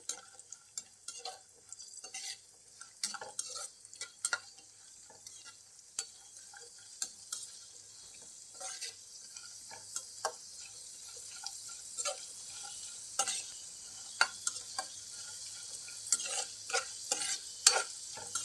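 Raisins frying in ghee while being stirred for a semiya and sago payasam, giving a faint, steady sizzle broken by frequent light scraping and clinking of a spoon against the pan, with no talk.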